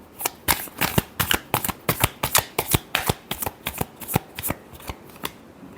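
A deck of tarot cards is shuffled in quick, rhythmic bursts, roughly twenty crisp riffling slaps in a row, very close and with no talking.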